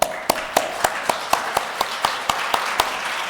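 Audience at a Lithuanian community event claps in a slow, regular rhythm, about a dozen evenly spaced hand claps ringing out clearly over a quiet hall.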